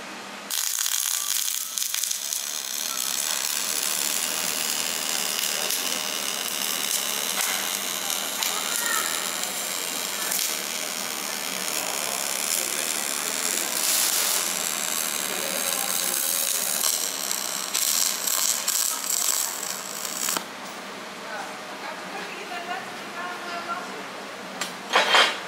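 A steady crackling welding arc as more passes are laid into a three-layer fillet weld joining steel at a steel construction workshop, running continuously at close range and pausing briefly near the end.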